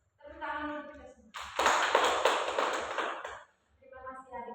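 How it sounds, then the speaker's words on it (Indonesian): Children in a classroom clap their hands together in a dense burst of applause lasting about two seconds, with a voice speaking just before and just after. "Tepuk tangan untuk kita semua."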